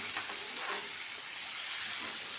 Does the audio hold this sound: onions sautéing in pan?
yes